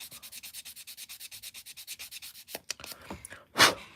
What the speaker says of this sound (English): If we keep on rubbing, we may not need to cut it out. It may just rub off.